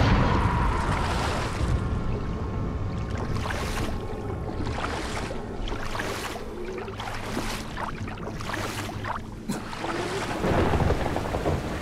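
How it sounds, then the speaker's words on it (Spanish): Heavy rain pours steadily in the video game Dying Light while thunder rumbles in several loud rolls, a dense storm texture with no voices. "Genial, lluvia."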